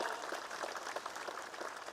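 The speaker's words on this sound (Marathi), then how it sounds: "आपण जोरदार टाळ्या वाजवाव्या" A political rally crowd claps in dense, steady applause heard from a distance, fairly faint and continuous throughout, with no voice over it.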